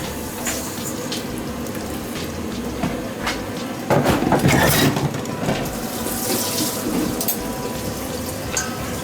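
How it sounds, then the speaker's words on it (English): Hot water from a kettle poured into a bowl of couscous for a chicken tagine meal, a steady trickling stream that swells into a louder gush partway through, with light kitchen clatter and no talking. "Then we're going to add our water."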